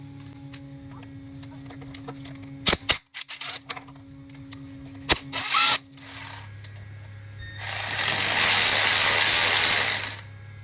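A power tool removes 12 mm bolts while an AC compressor is replaced on an Acura RDX, with ratcheting clicks and short mechanical bursts followed by a sustained, loud whirring run near the end.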